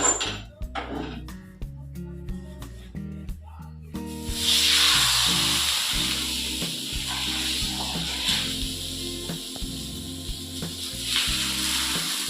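Thalipeeth frying in oil on a pan, a steady loud sizzle rising after a few seconds and continuing under background music.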